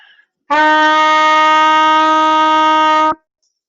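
A single sustained trumpet note, F played with the first valve, clear and steady for about two and a half seconds, then stopping cleanly; otherwise quiet.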